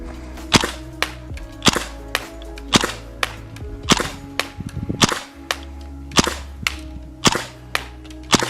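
GHK/LCT AKM gas blowback airsoft rifle firing single shots, sharp snapping cracks at a steady, roughly one-per-second pace, close and loud over a low background hum, with a brief rattle midway.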